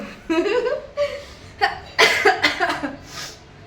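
A person with a lingering cough coughs several times in short bursts, close to the microphone, mixed with throaty, laugh-like exhalations and breaths.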